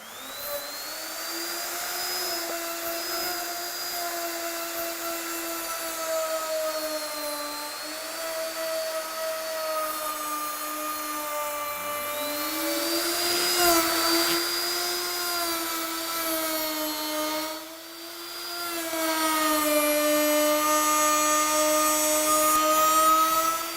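Ronix-7112 electric router, 1800 W, trimming a workpiece edge with a trimmer guide fitted, a loud steady high-pitched whine held for the whole stretch, pitch sagging under load around the middle and dropping briefly before climbing back.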